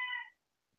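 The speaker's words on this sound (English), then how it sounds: "I could have told you that was a cat." A single short cat meow, fairly loud and close, lasting about a third of a second and then giving way to near silence, with no talking.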